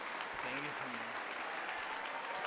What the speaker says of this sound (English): Everybody just clapping.